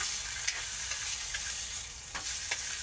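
Oil sizzles and spatters in a pan as lomi noodles are fried and stirred, a steady hiss with occasional sharp pops and scraping stirs, close and moderately loud, no talk.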